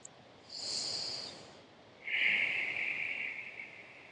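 Slow, deep breaths during a yoga flow: a soft airy inhale, a pause, then a longer, louder exhale, close and quiet with no talking.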